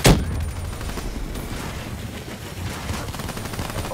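Gunfire in Black Ops 3 during a close multiplayer match, opening with a loud shot and followed by a steady stretch of rapid distant firing and game ambience.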